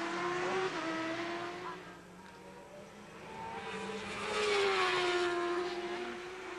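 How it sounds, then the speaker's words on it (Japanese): Racing motorcycles in the 1990 Suzuka 8 Hours endurance race pass by with a sustained engine drone that swells and falls in pitch. A louder bike sweeps past near the end. "大先輩の21番パイラ、そしてローソン組、この2人のペアのマシンが快走を続けています"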